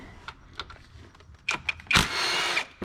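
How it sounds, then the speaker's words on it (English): Hand tools working on a Ford Mustang water pump bolts with an 8 millimeter socket, giving several short ratcheting clicks and taps followed by a louder burst of tool noise near the end, close by with no talking. "Start unbolting the water pump."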